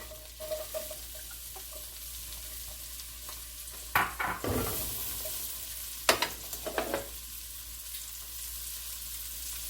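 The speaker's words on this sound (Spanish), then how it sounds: "Ahora voy a agregar la cebolla." Chopped onion sizzles in melted butter in a pan for a broccoli soup, a soft steady frying hiss with a few louder stirring scrapes near the middle, nearby and fairly quiet.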